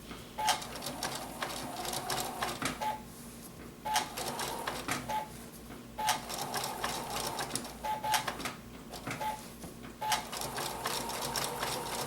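A sewing machine stitches an appliqué table topper in short, rapid bursts of needle clatter, pausing and restarting in a regular start-stop rhythm, close and moderately loud.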